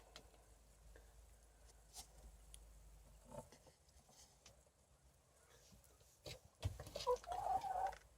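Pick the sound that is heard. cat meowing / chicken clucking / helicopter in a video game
chicken clucking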